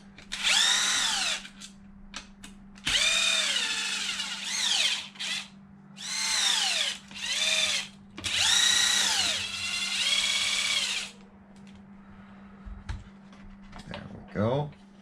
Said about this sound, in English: So the next thing we're going to do is get all the screws taken out